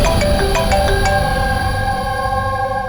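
A phone ringtone plays a short repeating melodic pattern of bright tones in the opening second, then sustained electronic notes continue over a steady dramatic music bed, fairly loud and with no talk.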